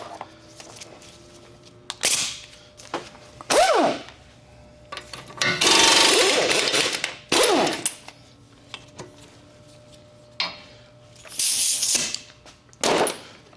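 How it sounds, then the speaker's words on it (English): Bursts of a power tool, likely an impact wrench, working a CV axle bolt off a 2006–2011 Honda Civic with a 32 mm socket, loud intermittent whirring and rattling runs separated by short pauses and metallic clanks. "take the axle bolt out, which is, I believe that looks like it's a 32 socket."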